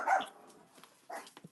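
Dogs bark a few times, a sharp bark up front and two or three shorter yips later, fairly close but not loud, at a rural home in the country about five miles from Washington, Iowa.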